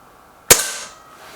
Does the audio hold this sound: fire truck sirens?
no